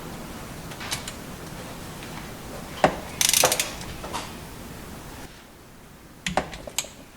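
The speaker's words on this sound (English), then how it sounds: "So that's torquing the entire crankcase cover." A torque wrench tightens the crankcase cover bolts on a Mercury 115 outboard, producing scattered ratchet clicks and sharp metallic ticks close at hand, with short pauses between bursts.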